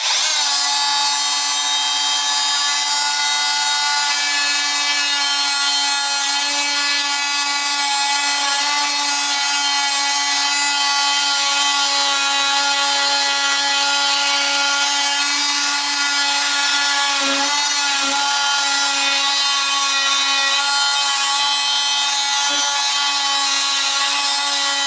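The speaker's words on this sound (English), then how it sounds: "You could use an oscillating saw, and that's what I'm going to do." An oscillating saw cuts through wood during a bathroom remodel, a loud, close, continuous high-pitched buzzing whine that holds steady for the whole stretch with slight shifts in pitch as the blade bites, and no talking.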